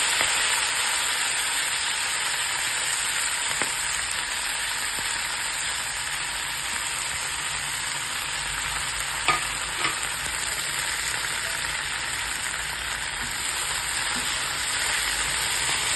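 Fenugreek leaves fry in hot oil with cumin, giving a steady, close, hissing sizzle with occasional light scrapes throughout.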